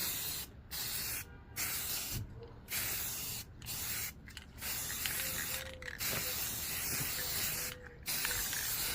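Black spray paint hisses onto the headliner of a 1993 Jeep Cherokee in repeated close bursts, with short silent gaps between passes.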